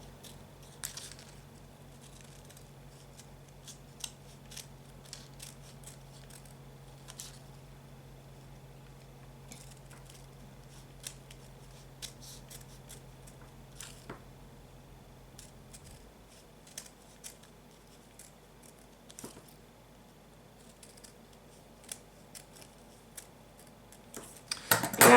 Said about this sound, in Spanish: vamos a ir cortando despacito sin llegar al final del todo